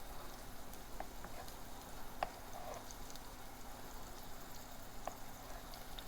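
Potatoes and leek frying in a pan for leek and potato soup, a steady soft sizzle running throughout with a few faint clicks, no talk over it.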